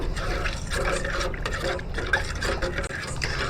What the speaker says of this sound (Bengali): এবারে জলটা একটু নাড়িয়ে দেব